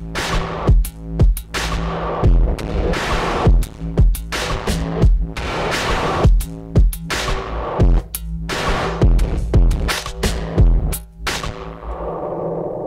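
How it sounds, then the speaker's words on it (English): A drum beat run through Ableton's Envelope Follower pulses with dense, heavily processed kicks and snares, booming low thumps and throbbing modulated texture driving continuously and loudly for about thirteen seconds, with no voices. "use what in my opinion is one of the most underrated devices, envelope follower, to make the beat sound like this."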